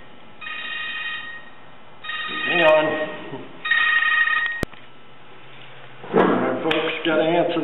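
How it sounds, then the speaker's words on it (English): Telephone ringing indoors in repeated bursts, each ring a bright warbling electronic tone about a second long separated by short gaps, with someone speaking between and over the later rings. "Hold on, the phone's ringing."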